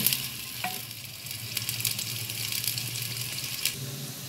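Onions fry in a pan for chicken handi, a continuous close sizzle with scattered crackles and a few clinks of stirring.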